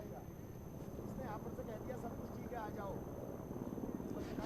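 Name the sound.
Chinook helicopter arriving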